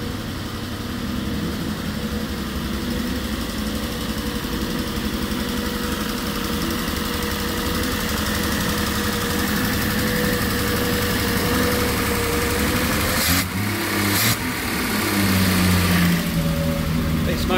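Triumph Spitfire 6 engine, a barn find freshly fitted with a new oil filter and petrol, running steadily at idle with a continuous uneven rumble, close by, with a few brief knocks and a slight rise near the end.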